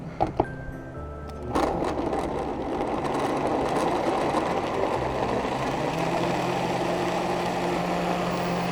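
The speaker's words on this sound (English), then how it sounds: "Okay, we're just gonna give it a blend" A blender whirs steadily while blending a vegan sauce with sesame seeds, starting up after a few light clicks and then holding a loud, continuous motor roar close by.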